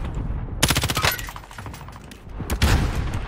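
M13 rifle in the game Warzone Pacific firing two loud rapid bursts, each a fast rattle of close shots, separated by a short quieter gap, with no talk.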